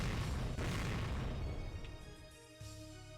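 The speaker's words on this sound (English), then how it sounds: "A roar and an explosion sounded at the same time." Explosion in the video game Higurashi no Naku Koro ni, a loud rumbling boom with a crackling tail that gradually dies down, then a second, softer thud.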